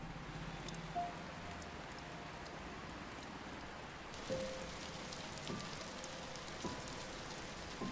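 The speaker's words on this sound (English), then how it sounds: "We can see clearly now, the rain has come." Steady rain falls in the video game Until Then, a soft continuous broadband hiss with a few brief tones and soft thumps layered over it.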